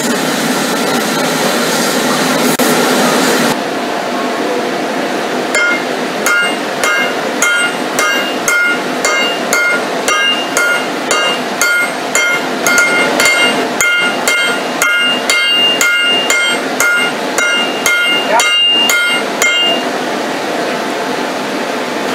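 Hammer blows forging a Damascus steel billet flat and long, a steady run of sharp ringing metallic strikes after a few seconds of roaring forge noise.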